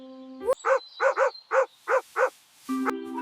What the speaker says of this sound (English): It sounds like a small dog.